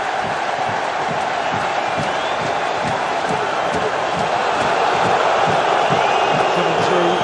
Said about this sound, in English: Got the crowd going again.